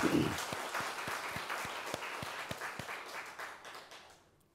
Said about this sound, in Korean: 우리 그분들 위해서 박수 한번 칩시다